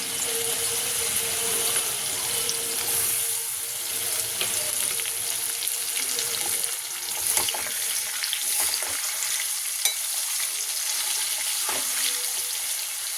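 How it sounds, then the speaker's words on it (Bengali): Spice paste sizzles hard in hot oil in a pan of fried potatoes and garlic for a fish curry, a dense, close hiss with occasional scrapes and knocks from stirring, and no talking. "মশলাটা দিয়ে দেবো। মশলাটা দিয়ে কষাবো।"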